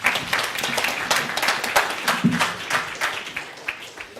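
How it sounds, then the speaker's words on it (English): A round of applause for a team at a hackathon demo day, a moderately sized crowd clapping in quick, uneven bursts for a few seconds. "Please give them a round of applause."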